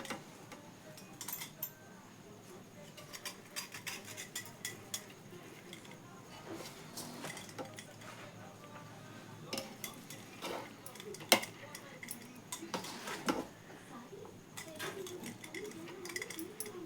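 Rice for chicken dum biryani is served onto a plate with a spoon, bringing faint, scattered clinks and taps of metal on the plate with brief pauses between them.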